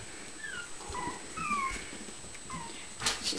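A small standard-size puppy whimpers in a few short, thin rising and falling whines, faint and close, separated by brief pauses with quiet room noise.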